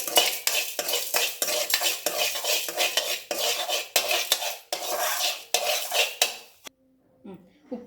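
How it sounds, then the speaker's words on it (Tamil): Rock salt roasted in a hot pan, stirred with rhythmic metal scraping and rattling at close range in quick repeated strokes for several seconds before stopping abruptly, leaving near quiet. "சூடான சட்டிலேயே இந்த கல் உப்பையும் லேசாக ஒரு சூடு காட்டி"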